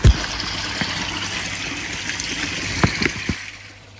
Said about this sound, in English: so the water now is beginning to slow down